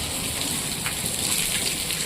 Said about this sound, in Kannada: ಮಳೆ ಸಿಕ್ಕಾಪಟ್ಟೆ ಬರ್ತಾಯಿದೆ ಗುರು.